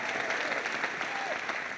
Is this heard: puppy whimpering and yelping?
no